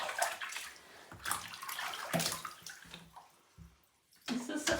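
Warm bathwater running and splashing in a bathtub being filled for a dog's first bath, gushing in uneven surges with short lulls, fairly close.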